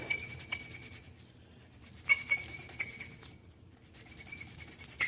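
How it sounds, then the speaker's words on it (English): A suction cup spins an exhaust valve back and forth in its seat on a Simplicity 560, giving soft rubbing and grinding strokes broken by a few sharp metallic clinks, close and alone. "I'm going to drop in my valve gently, stick my suction cup to it. I'm just going to spin it back and forth."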